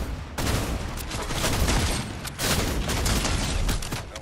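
Rapid gunfire in a video game shooter: dense, loud bursts of shots crackle almost nonstop, with a brief gap before the firing resumes just as heavily.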